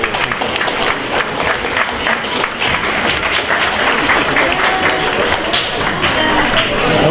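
A loud, dense wash of clapping from an audience cheering a team at the Hack Jr 2017 hackathon, sustained and steady throughout the whole stretch.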